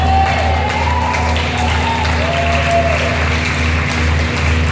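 A crowd gathered around a street performance at Gare Saint-Lazare claps and cheers steadily, close and loud over a low mechanical hum, with scattered voices in the mix.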